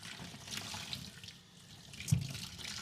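Water running from the tap of a water filter, a steady soft hiss and splash with a brief louder splash near the end, fairly quiet and without speech.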